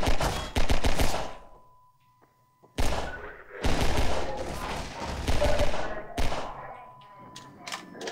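Manhacks attack in Half-Life 2 in dense bursts of metallic clattering, whirring and impact thuds, broken by a short near-silent pause with a faint tone before the chaotic bursts resume.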